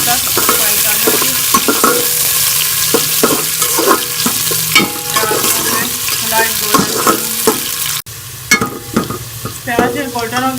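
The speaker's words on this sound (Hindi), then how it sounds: "बड़ी साइज का प्याज कटा हुआ ये शामिल कर लेंगे और इसको मैं गोल्डन होने तक फ्राई कर लूँगी" Large chopped onions sizzle and crackle in a pan as they fry toward golden for a vegetable pulao, with frequent scraping stirs of a spoon over the steady sizzle.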